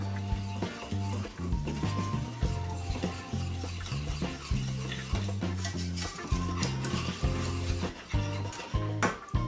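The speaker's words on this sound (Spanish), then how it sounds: "Y ahora le voy a añadir la harina. Y la vamos a dorar un poquito." Flour stirred into melted butter in a pan for béchamel gives a soft continuous scraping and faint sizzle, with rhythmic rubbing strokes of the spoon throughout.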